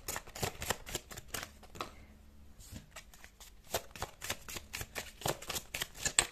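A deck of tarot cards is shuffled by hand in a series of quick riffling bursts and soft slaps, close and fairly quiet, with a brief lull in the middle.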